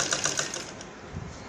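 A sewing machine runs a straight seam along a neckline with lace laid flat, a fast rattling stitch that is loud and close at first and then eases off, with no voices.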